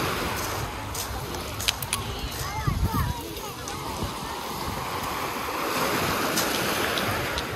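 Sea surf washing onto a shallow, gently sloping beach at Koktebel in Crimea on a rainy day, a steady broadband wash with gusty wind noise and a few brief louder splashes.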